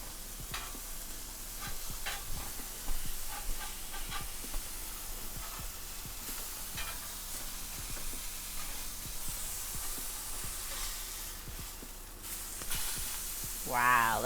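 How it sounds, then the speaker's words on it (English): Beef patties sear in a hot pan with a constant, moderately quiet sizzle and hiss, punctuated by occasional clicks and scrapes of handling. "Wow, look at that searing."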